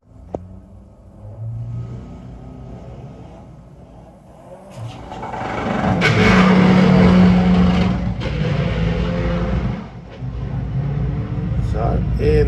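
A front-wheel-drive doorslammer drag car at Santa Pod launches and accelerates down the quarter-mile strip, a rising engine roar building from a quieter start and staying loud to the end, with commentary talking over it.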